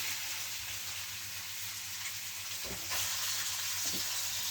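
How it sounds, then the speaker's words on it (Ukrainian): Pork belly (salo) sizzles steadily in a hot pan, a dense close hiss of frying fat with occasional soft stirring scrapes, loud and continuous with no talking. "Так що слухаємо шкварчання."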